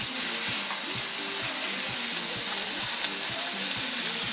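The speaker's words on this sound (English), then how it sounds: "Hiking it up with the heat, but keeping it moving at the whole time. That's the key to a good stir fry" Fish stir-fried over high heat in hot oil, a loud steady sizzle with a regular rhythm of spatula strokes tossing the pieces, close and without talk.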